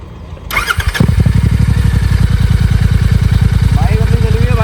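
A Royal Enfield GT 650 motorcycle fitted with an AEW exhaust on an otherwise stock bike cranks and fires up, then settles into a loud, steady idle with a rhythmic, evenly pulsing thump close to the microphone.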